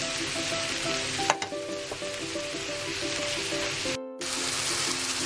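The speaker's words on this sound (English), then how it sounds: "our mushroom is cooking down nicely" Mushrooms with onions and garlic sizzle steadily in a hot pan, a dense continuous frying hiss with a brief stir and a short break partway through, close and prominent.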